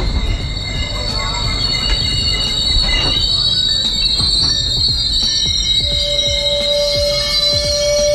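A GO Transit train rolling on the rails in Ontario, with a constant high metallic wheel squeal over a rumbling, rattling clatter, loud and close.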